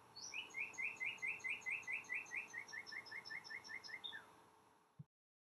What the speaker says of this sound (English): So is the bird outside. Hope you can hear it.